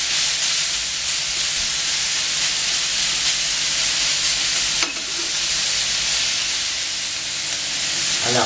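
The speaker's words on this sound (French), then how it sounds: "c'est pas de tout cuire complètement, c'est de juste faire suer un petit peu toute cette garniture" Steady, loud sizzling of a vegetable garnish sweating on a hot plancha, with a continuous hiss of frying and steam throughout and a couple of brief sharper crackles.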